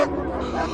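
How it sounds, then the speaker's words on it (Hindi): A dog cries outside a house, a short whimpering yelp lasting under a second, fairly close and clear. "घर के बाहर कुत्ते के रोने की आवाज लगातार आ रही थी"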